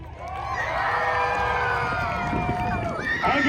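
A crowd at a monster truck show cheers and shouts loudly and continuously, with children's screams and whoops rising within the roar.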